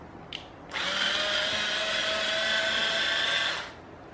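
A power screwdriver backs a screw out of an Arno VE70 40cm X-TREME 7 seven-blade 150 W fan, a close, loud steady whine running about three seconds after a brief click and then stopping.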